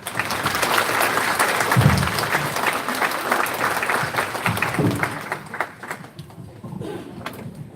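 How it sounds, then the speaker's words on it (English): A crowd gives sustained applause for a speaker at a U.S. congressional campaign event, steady and loud from a full room for most of its length before tailing off near the end. "give him one round of applause one more time"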